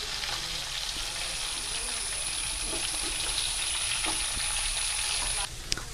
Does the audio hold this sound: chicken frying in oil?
yes